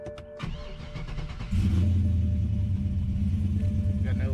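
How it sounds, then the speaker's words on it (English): A BMW E9X fitted with a swapped GM LT V8 cranks and fires, the starter whirring briefly before the engine catches into a loud, steady, deep idle rumble close by. "so fire up the car."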